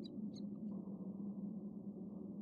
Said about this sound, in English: So when the owl is there, the mouse is scared.